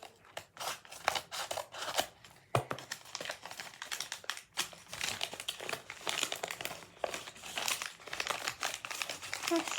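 Paper crinkles and rustles close up as it is crumpled and handled to go into a trash bin, with dense crackling bursts throughout and a few sharp taps.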